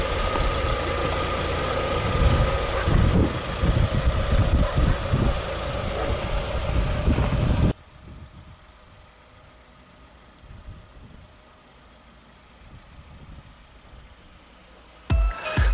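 A 2016 Lada XRAY 1.6 MT with a normally aspirated 1.6-litre 16-valve inline-4 idles steadily, its low engine hum loud at first, then dropping to a quieter, muffled idle partway through, with a brief knock near the end.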